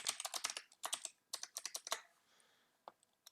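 Fingers typing a password on a computer keyboard, close crisp key clicks in quick bursts with short pauses between runs, then a few scattered taps near the end, with no talking.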